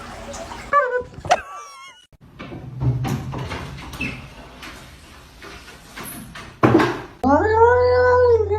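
A cat meows several times, in short high calls early on and a longer drawn-out meow at the end, mixed with household clatter such as a door or cupboard and running water, while a person talks.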